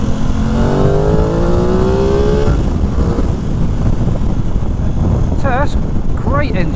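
A 2021 Aprilia Tuono 660 motorcycle engine pulls hard on the road, its rising, climbing drone heard through heavy wind rush. The engine note fades into steady wind noise, with a few brief whistling tones near the end.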